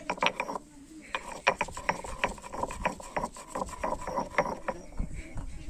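Tamarind pounded in a mortar, sticky pulp taking repeated dull thudding blows in an uneven rhythm, close and fairly quiet.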